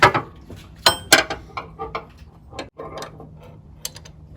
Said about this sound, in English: I'm going to put a 19mm wrench on that holding tool.